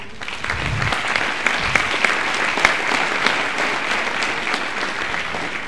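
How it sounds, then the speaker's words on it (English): Audience at a high school winter band concert breaks into steady, full applause, a dense wash of many hands clapping at even loudness with no talk on top. "So I just want to give them a round of applause."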